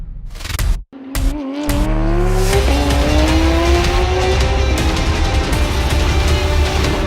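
Porsche 911 GT3 Cup race cars howl past at close range, engines revving hard through rising gear changes with a brief tire squeal, loud and sustained with no voices.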